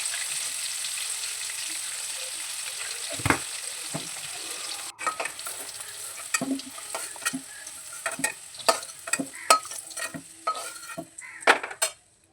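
Whole medium potatoes fry in hot oil with salt and turmeric, a steady sizzle that later gives way to repeated clinks and scrapes of a utensil stirring in the pan.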